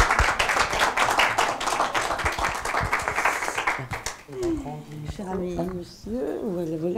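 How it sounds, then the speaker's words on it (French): An audience claps after a theatre testimony about forced marriage, with dense applause for several seconds that gives way to a voice speaking. "je remercie encore Violette, qu'on peut applaudir très fort."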